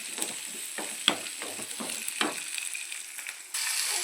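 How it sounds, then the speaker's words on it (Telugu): Onions and whole spices such as cinnamon and cloves fry in oil in a pan for Andhra-style chicken sukka. The sizzle is close and steady, with scattered stirring scrapes and clicks. "వేసి బాగా ఫ్రై చేసేయండి. పచ్చివాసన పోయేంత వరకు బాగా వేసుకునేయండి."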